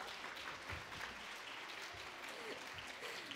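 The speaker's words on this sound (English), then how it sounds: "So I just want to give you all a round of applause." A conference audience applauds with steady, dense clapping throughout, fairly faint and distant, with no talk over it.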